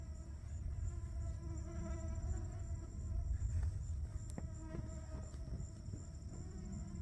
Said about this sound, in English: I've never seen so many mosquitoes.